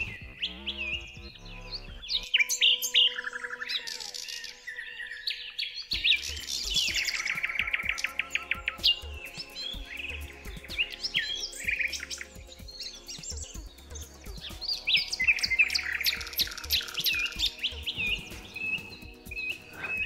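Many forest birds sing continuously in a dense chorus of high chirps, trills and tweets, some near and bright, others softer, overlapping without pause throughout.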